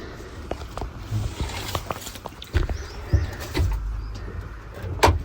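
Pigeons shift about in a cage that is being cleaned. Soft wing flutters, scattered taps and scraping steps sound close by, with a low coo now and then over a quiet background.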